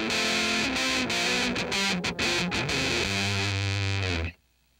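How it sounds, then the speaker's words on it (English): Electric guitar played through a fuzz pedal on a dark setting with no reverb, thick distorted chords and notes ringing loud and close, then a sustained low note before cutting to silence. "so you can hear just what the fuzz sounds like by itself"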